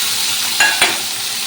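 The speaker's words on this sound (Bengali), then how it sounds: "তো চলো এখন আমি তেল দিয়ে সব থেকে প্রথমে পনিরগুলো ভেজে নেবো।" Homemade paneer frying in hot oil gives a steady, bright sizzle throughout, broken by two brief louder bursts as pieces shift in the pan; no voices.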